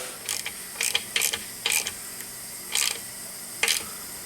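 A ratchet tightens a TPMS sensor nut on a wheel rim in short bursts of rapid clicking, six or seven quick strokes close up with brief pauses between them.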